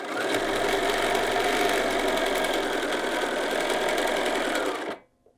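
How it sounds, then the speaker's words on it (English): Sewing machine running steadily for about five seconds as it stitches two layers of fabric together for a pocket, a loud continuous motor whir and needle rattle that stops abruptly near the end. "you're stitching the 2 layers together"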